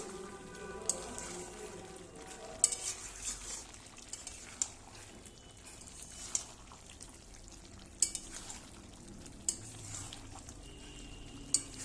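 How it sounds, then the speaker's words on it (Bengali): Chili chicken with soy sauce stirred in a pan, a steady low sizzle with sharp intermittent clinks and scrapes of a utensil against the pan, moderately close, with no talking. "ভালো করে একটু নেড়ে নেব।"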